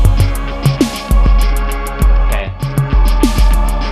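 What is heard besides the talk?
programmed drum beat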